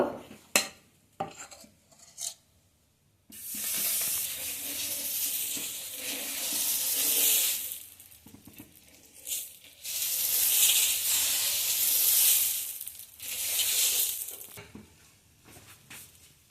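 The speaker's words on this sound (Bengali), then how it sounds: "তাওয়াটা আমার ভালোভাবে গরম হয়ে গেছে। এখন আমি ব্যাটারটা দিয়ে দেব।" Mung dal batter hits a hot tawa and sizzles loudly in long hissing bursts, following a few sharp utensil clinks at the start, with quieter lulls between the sizzling stretches.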